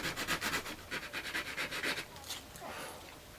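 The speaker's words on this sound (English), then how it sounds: "now I'm going to use 80 grit. Just slowly smooth it out." Close, rhythmic back-and-forth rasping of 80 grit sandpaper smoothing a damaged board, about a dozen quick strokes that trail off into a softer rub.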